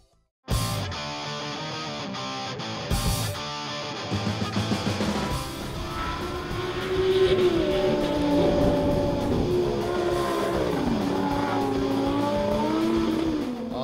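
A Lamborghini Gallardo engine roars loudly and continuously, its pitch climbing and falling as it revs and accelerates along.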